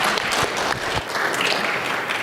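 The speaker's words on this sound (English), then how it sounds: "give them a round of applause to get them going." Applause from an audience at a geospatial open-source software conference talk, a loud, dense burst of many people clapping nearby for about two seconds with no pause.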